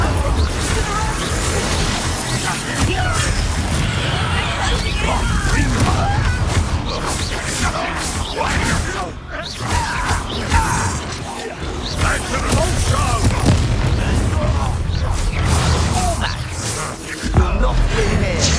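Explosive spell blasts and crashes in the video game Hogwarts Legacy during a fight, repeated booms and impacts over combat clamor, with characters shouting throughout.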